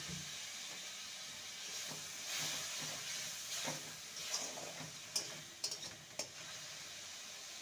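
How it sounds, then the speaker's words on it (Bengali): Kashmiri chilli powder is stirred in a pan with a little water, giving a faint steady sizzling hiss with soft scraping and a few light clicks from the spoon, close and quiet. "ভালো করে নাড়িয়ে নেব আর দিয়ে দেব সামান্য জল।"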